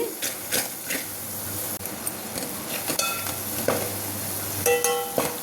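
An onion-tomato curry base for a drumstick and tomato curry sizzling in a pan, with steady frying hiss and scraping stirs of a spoon against the metal, close and continuous.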